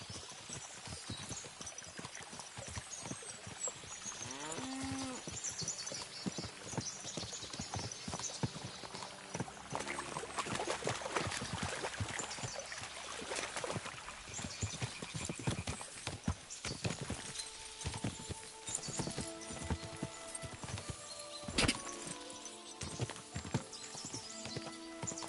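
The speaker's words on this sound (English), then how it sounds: "As soon as we cross the stream, we'll give the horses a gallop again." Steady clip-clop of several horses' hooves at a gallop in Kingdom Come: Deliverance 2, continuous and fairly close, with a brief whinny and splashy rustling from crossing a stream.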